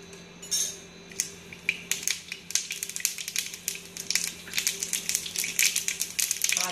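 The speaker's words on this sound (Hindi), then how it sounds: "अच्छे से राई चटकने पर" Mustard seeds crackle and pop in hot oil, a dense, irregular burst of sharp little snaps growing busier as it goes.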